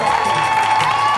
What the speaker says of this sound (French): On applaudit plus fort encore.